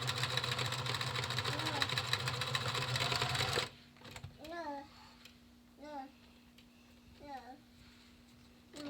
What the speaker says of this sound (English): you're going to take the ends, overlap them by about 1 inch, and zigzag those ends together.